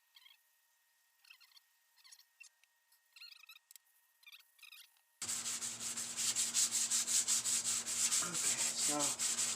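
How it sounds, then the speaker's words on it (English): Sandpaper rubs at 500 grit over the coating of an E-Flite Carbon Z RC plane, knocking down high spots. A few quiet strokes come first, then steady, loud, rhythmic scraping fills the second half. "Sand a little bit of high spots out"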